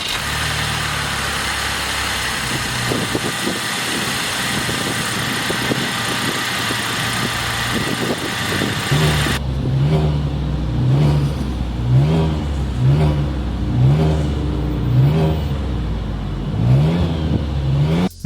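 A 2023 Chevrolet Traverse with a 3.6-liter Ecotec V6 idles with a steady loud hum, then revs repeatedly in short rising bursts that fall back to idle, close up with no talking.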